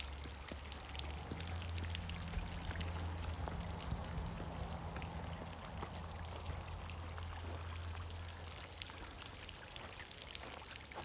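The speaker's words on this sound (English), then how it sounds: "I really do love this fountain." Water from a garden pond fountain pours and splashes steadily in a shaded front-yard garden, a continuous close trickling wash with no talk.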